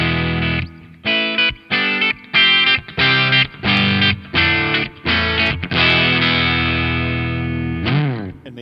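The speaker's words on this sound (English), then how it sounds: "An IR pedal, and the reverb delay right into the PA system." An electric guitar plays through an IR pedal with reverb and delay straight into a PA system, loud, distorted, chopped chords in a steady rhythm, then one long ringing chord that fades with a final bent tail.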